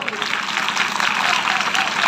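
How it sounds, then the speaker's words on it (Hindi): Dense applause from an audience honouring teachers at a senior secondary school prize ceremony for top students, a steady loud wash of many hands clapping throughout. "तो उन टीचर्स के लिए जोरदार तालियां"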